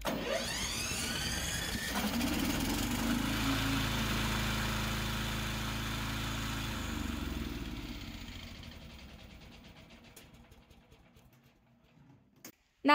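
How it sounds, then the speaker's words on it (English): The gasoline engine of a VTLM800 remote-operated rubber-track slope mower runs nearby with a steady mid-low drone, then winds down and fades to quiet, ending in a sharp click. "Use this button to start the gasoline engine."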